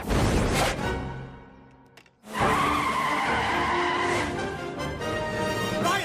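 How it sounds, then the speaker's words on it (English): Car tires screech in a loud, sustained skid before a crash in the animated comedy Family Guy, briefly dropping away before a second harsh screeching burst. "Stewie travels back in time and rescues Brian from the car crash."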